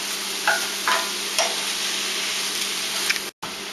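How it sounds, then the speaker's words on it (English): Taco meat frying in a pan, a steady close sizzle with a few light scraping stirs and taps of the utensil, briefly cut off near the end. "you don't want it to be all the way browned right away, so let's mix it around."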